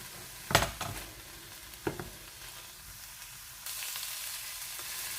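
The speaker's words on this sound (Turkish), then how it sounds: "Şöyle bir 5 dakika kadar beraber soteleyeceğiz." Mushrooms, chicken and onions in butter sauté in a pan, a soft frying hiss punctuated by a few sharp utensil clacks, and the sizzle swells louder and brighter toward the end.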